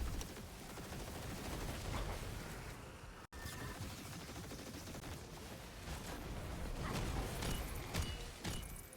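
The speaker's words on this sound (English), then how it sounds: "I need to shoot a live wire for that." Dense rapid gunfire in a video game, bursts of shooting at a live wire with sharp cracks and a brief dropout midway, loud and continuous throughout.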